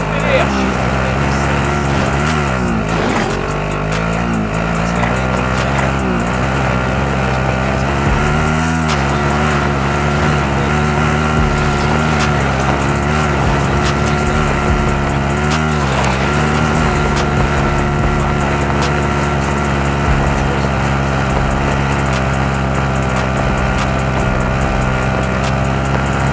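A vehicle engine drones steadily while driving in a war video game, a loud continuous rumble with shifting revs throughout, and voices talk over it.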